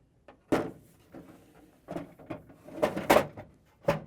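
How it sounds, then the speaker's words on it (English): An ice bin slides into a Frigidaire/Electrolux refrigerator freezer after the ice maker arm is lowered, giving several close plastic knocks and scrapes with a sharp clunk near the end, no talking. "I'm going to slide in the ice bin."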